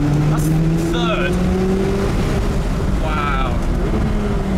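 A McLaren 570GT accelerates hard up a volcano road, its engine roaring loudly and continuously from close inside the cabin as it pulls through the gears, with brief rising whines on the upshifts.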